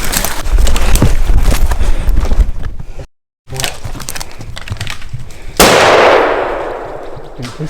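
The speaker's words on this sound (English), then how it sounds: "This gun ain't shooting straight." Hunting rifle shots during a backcountry elk hunt, loud cracks amid outdoor noise, a short silent gap, then a sharp blast with a long decaying echo across open terrain.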